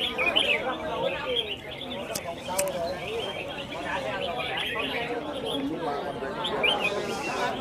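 Competition songbirds sing at a bird-singing contest in Vietnam, with busy, overlapping chirps and trills running continuously at moderate loudness while someone talks over them.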